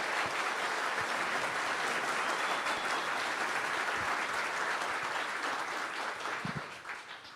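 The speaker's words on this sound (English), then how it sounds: "big round of applause for Dinesh real quick." Applause from a debate watch-party audience for Dinesh, a steady wash of clapping that holds for several seconds and fades toward the end.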